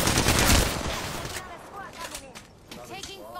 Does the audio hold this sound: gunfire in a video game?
yes